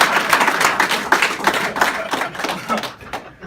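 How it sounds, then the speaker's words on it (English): A roast audience breaks into a dense, steady round of clapping and applause for the honorees, many hands overlapping close by for several seconds before thinning out at the end. "let's get a round of applause and clap it up for Bellinger"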